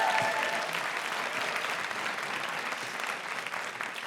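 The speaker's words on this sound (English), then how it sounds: "So give yourselves a massive round of applause straight away." A live comedy show audience claps in a continuous, dense round of applause that stays loud and even throughout, with no talking over it.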